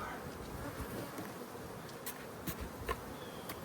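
Honeybees buzz around an opened hive during a spring inspection, a soft continuous drone with individual bees zipping past close to the microphone, fairly faint and without talk.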